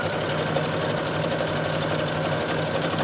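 A sewing machine stitching a tank top hums in a steady, fast, continuous whir close up, with no talking.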